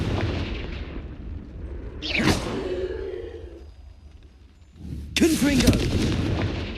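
A Confringo explosive spell cast in Hogwarts Legacy bursts out twice: a whooshing blast around two seconds in, then a louder, longer explosive crack near five seconds, both over a steady game background.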